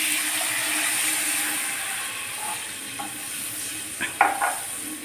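Third coconut milk poured into a hot pan of ground spices gives a steady simmering hiss, with a few soft clinks and a brief louder scrape of utensil near the end.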